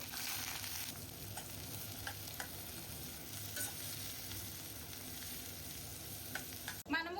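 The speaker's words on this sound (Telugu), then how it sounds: "ఉల్లిపాయ ముక్కలు అయితే ఫ్రై అవుతున్నాయి" Onion pieces fry in oil in a kadai, giving a quiet, steady sizzle dotted with small crackles, then a short clatter right at the end.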